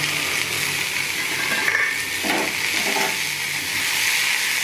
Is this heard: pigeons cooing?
no